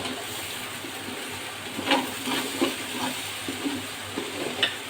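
Vegetable khichuri with chicken fries in a pot with little oil, producing a steady soft sizzle broken by a few light stirring scrapes and clinks, close and moderately quiet.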